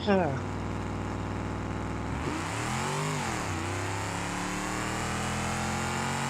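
A big-wheeled car in a driving game played on a steering wheel, its engine revving loudly with pitch rising, dipping and climbing again in a steady, continuous drone.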